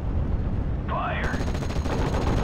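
Gunfire in the World War II strategy game Steel Division Normandy 44, with sharp shots and rattling bursts over a dense battle din, plus a brief electronic tone and some voice chatter in the mix.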